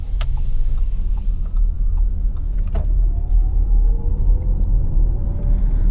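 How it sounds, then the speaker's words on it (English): An Audi e-tron electric car accelerates with a low, steady rumble of road and tyre noise and a faint rising whine from the electric motors, no engine clatter, heard from inside the cabin. "absolutely no noises, no engine clatter, only the sound from the motors"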